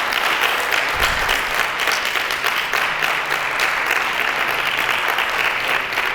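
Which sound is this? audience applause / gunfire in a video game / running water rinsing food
audience applause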